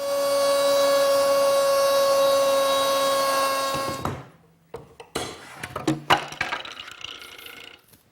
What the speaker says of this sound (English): And I can make the rabbet with the same jig and router